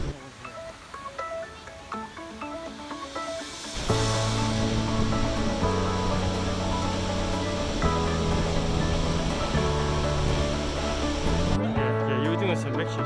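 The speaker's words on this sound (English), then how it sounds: "Alright, we're at the heart of the falls." Waterfall in Portland heard from close to its base, a broad steady roar of falling water that swells louder midway, with people talking over it.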